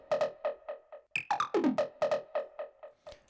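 Varied Serum synth riff from the second half of the drop in a track, a quick chain of a dozen or more buzzy, bouncing notes with a burst of pitch-bending wobbles in the middle, played up close with no voices.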